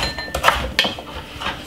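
Pieces of fresh Jamaican sugar cane are dropped into a Ninja blender jar, producing a few hard clunks and clatters against the container, close and distinct, with no talking.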